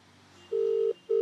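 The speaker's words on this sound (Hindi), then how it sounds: "ये लगातार रिंग जा रही है" A phone call placed on speakerphone to a Delhi Police number, its steady ringback tone sounding loud and close in two long beeps separated by a short gap, with no talking over it.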